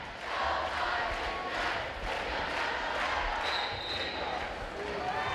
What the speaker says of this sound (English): Legacy crowd certainly enjoying this game.